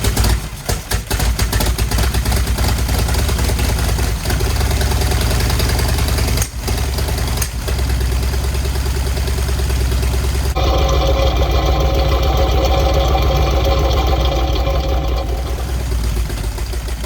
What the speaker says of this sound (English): I leave the engine idling for a short while until it's warmed up.